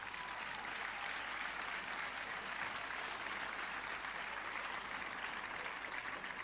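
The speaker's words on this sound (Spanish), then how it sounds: "Y un aplauso para ellas," A crowd applauds the Atlético Guardés women's handball team at their season presentation, a steady, dense wash of clapping that holds evenly throughout without pause.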